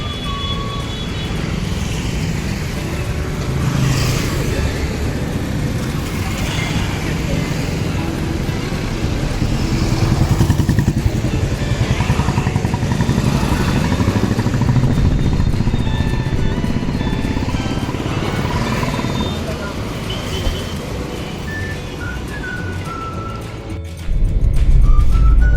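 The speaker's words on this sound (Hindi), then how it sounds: "ये ट्रैफिक का आनंद अपन लें।" Steady road traffic at night near the Madhya Pradesh–Maharashtra border, with cars, trucks and motorcycles passing in a continuous engine rumble, horns sounding faintly now and then.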